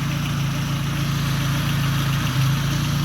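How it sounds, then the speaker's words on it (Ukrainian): A car engine running on gas idles with a steady, close, low droning hum and a faint rhythmic pulse, and the pitch wavers briefly near the end. "Отак от робить автівка, перевірено, на газу, на бензині робить отак"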